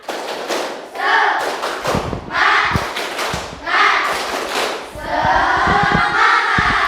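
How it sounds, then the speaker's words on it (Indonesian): Children in an Islamic school classroom perform the tepuk semangat clapping chant, with loud rhythmic bursts of claps and thumps in repeated patterns, mixed with young voices chanting along throughout. "Sekarang tepuk semangat bisa? Oke, sekarang tepuk semangat."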